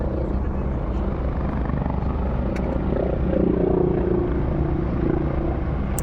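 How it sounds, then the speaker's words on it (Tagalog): A helicopter passes overhead near a harbourfront promenade, its steady rotor drone loud and continuous throughout, swelling slightly midway as it draws closer. "Kana helicopter."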